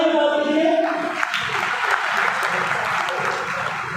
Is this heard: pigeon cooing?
no